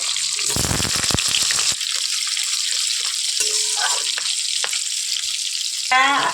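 Chopped onions drop into hot oil in a pan, giving a bright, steady sizzle and frying crackle with occasional stirring scrapes and clinks throughout, close and fairly loud, with no talking.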